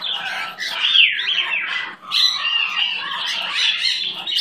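A pet bird calls nearby with shrill, sweeping squawks and chirps, repeating in bursts with a brief pause in between.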